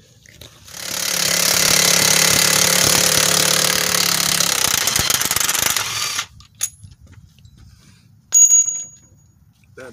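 Impact wrench working a 19 mm bolt on a motorcycle brake setup, a loud sustained burst of rattling hammering for several seconds, then quiet with brief clicks and one more short buzzing burst near the end.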